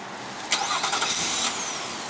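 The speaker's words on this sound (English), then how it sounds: "Then here's how to do the remote engine start." A 2015 Nissan Pathfinder Platinum's 3.5 L V6 engine, started by remote, cranks briefly and catches, then settles into a steady idle hum, heard close with no voices.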